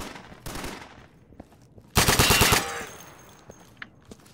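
A machine gun fires in the video game Insurgency: a short burst, a pause, then a longer, louder burst of rapid shots, with faint clicks trailing after.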